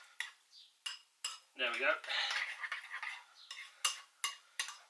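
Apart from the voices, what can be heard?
stirring tartare sauce of egg, vinegar, oil, mustard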